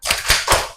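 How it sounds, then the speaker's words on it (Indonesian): A classroom group doing the tepuk rimba clap, three close, loud bursts of hands clapping together in quick rhythm, with no talking. "1 kali tepuk rimba."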